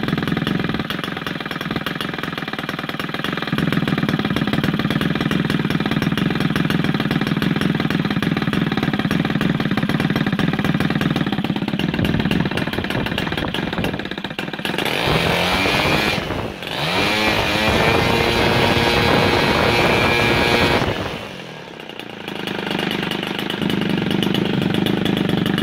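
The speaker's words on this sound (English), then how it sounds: "this is the OS 160 FX two-stroke running on" An OS 160 FX two-stroke model airplane engine converted to run on gasoline roars loudly and steadily up close, its pitch shifting as the throttle changes, with brief dips in the middle and near the end.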